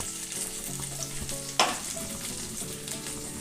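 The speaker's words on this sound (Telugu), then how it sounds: "చేప ముక్కలు 2 వైపులా చక్కగా కాలి చక్కగా ఫ్రై అయినాయి." Masala-coated fish pieces fry in a pan with a constant soft sizzle, broken by one sharp clatter partway through.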